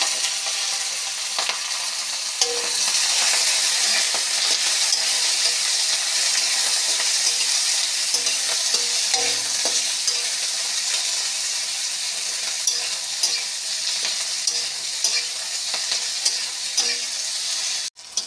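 Onions and green chillies fry in hot oil in a kadai, giving a loud, steady, close-up sizzle that runs unbroken, with occasional soft clicks and scrapes of stirring and no voices.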